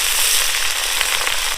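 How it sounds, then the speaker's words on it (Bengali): Cabbage dropped into a large karai of hot oil with already-browned fried potatoes, giving a dense, steady, fairly loud crackling sizzle that runs through the whole stretch without voices. "দেখো বন্ধুরা আমরা আলুগুলো ভাজার পর বাঁধাকপি দিচ্ছি।"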